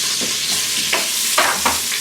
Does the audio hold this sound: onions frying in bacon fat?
yes